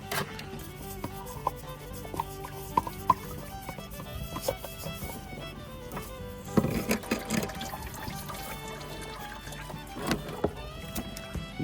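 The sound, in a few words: engine oil draining and pouring from truck oil filter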